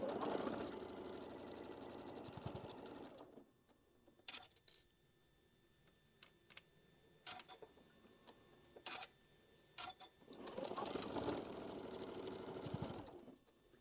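A sewing machine stitches a table runner in bursts of fast, rhythmic motor whirring. A long run of stitching opens the clip, and after a quiet stretch of scattered ticks and clicks, a second run starts near the end.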